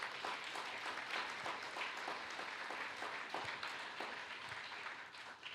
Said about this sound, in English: So let's give a round of applause to Xavier once again.